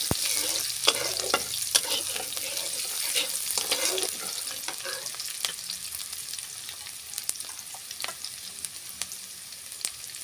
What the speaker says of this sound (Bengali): পেঁড়া কাঁচা ঝাল দিব, সুন্দর করে পেঁয়াজটা ভেজে নিব।